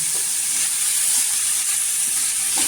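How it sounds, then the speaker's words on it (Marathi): Washed potato pieces fry in hot oil for a spicy potato dish, giving a steady, loud, dense sizzle with faint stirring and no talk throughout. "इथे बटाटे स्वच्छ धुतलेले आहेत, ती या तेलामध्ये टाकायची आणि इथे आहे ना छान अशी फ्राय करायची"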